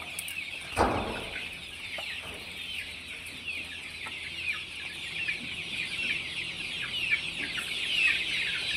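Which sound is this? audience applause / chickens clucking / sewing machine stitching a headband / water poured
chickens clucking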